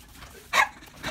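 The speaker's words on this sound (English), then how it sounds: "Your dog makes weird like grunting noises and it's so scary." A dog gives two short, throaty grunting vocalisations close by, the first louder and longer, with quiet room sound in between.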